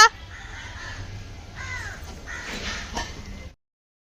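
Crows cawing outdoors during a Pongal celebration, several harsh caws spread across a few seconds, moderately near over a steady background hum, with no talk.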